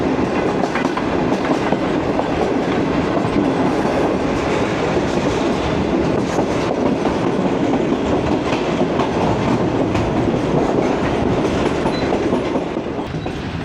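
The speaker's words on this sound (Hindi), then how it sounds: "कोटरी जंक्शन से पहले एक ज़बरदस्त सा कर्व लेते हुए ट्रेन" A Pakistani passenger train, the Business Express, rounds a sharp curve near Kotri Junction, heard from a rear coach as a loud, continuous rumble with rhythmic clickety-clack of the wheels throughout.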